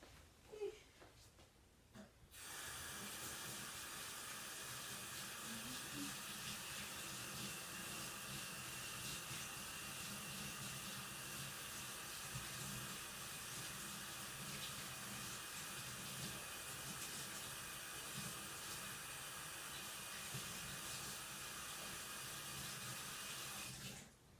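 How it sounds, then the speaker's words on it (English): Water runs steadily from a tap for hand washing, a continuous loud hiss and splash after a brief start, alone with no talk. "Let me go wash my hands because they're a wreck at the moment."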